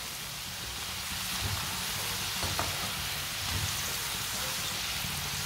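Sliced potato chips fry in hot oil in a pan as they are turned over, giving a steady dense sizzle with a few soft scraping clicks, close and without talk.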